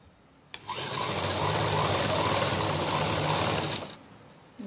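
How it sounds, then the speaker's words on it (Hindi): Sewing machine running a straight seam on a small doll's dress, a steady whirring hum of about three seconds that starts and stops abruptly, close and loud with no talk. "ये आड़े तो मशीन दरकन है और इसमें बिल्कुल सीधा सीम देंगे।"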